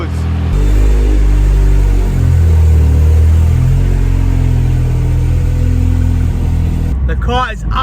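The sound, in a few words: Ford Sierra Sapphire RS Cosworth engine running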